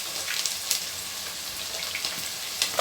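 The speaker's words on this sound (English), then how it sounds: "So guys, the oil is well preheated. Now I'm going to lower the onion." Chopped onion frying in well-preheated oil for a stew, a steady hissing sizzle with scattered sharp pops and crackles, close and alone.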